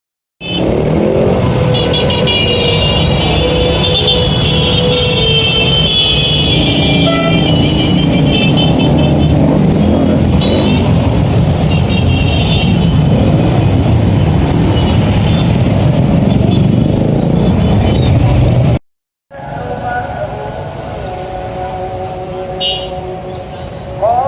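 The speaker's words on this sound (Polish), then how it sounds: "Też Wam teraz puszczę nagranie tych skuterków" Dense street traffic roar in Indonesia with buzzing, honking scooters passing close by, continuous for a long stretch before a brief cut and quieter ambience.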